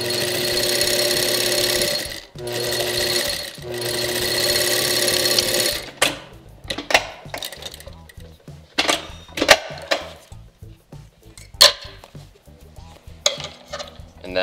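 Sewing machine running steadily while stitching fabric for a five-panel camp hat, a continuous loud whir for several seconds that breaks into short bursts and clicks as the fabric is handled.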